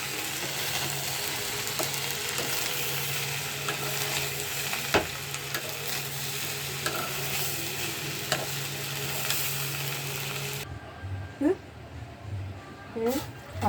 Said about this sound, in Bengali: চাল ভাজতেছি, বিরিয়ানির চাল।